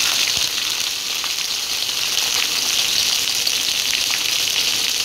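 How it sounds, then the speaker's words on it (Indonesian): Shallots, bird's eye chilies and tomato sauté in a hot pan, giving a loud, steady, hissing sizzle that stays even and continuous throughout. "Tumis bumbunya sampai matang ibu."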